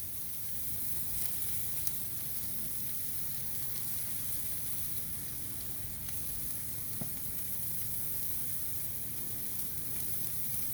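Tomahawk steaks seasoned with salt and spritzed with olive oil sizzle on a grill, a steady, dense hiss that holds evenly throughout with no talking.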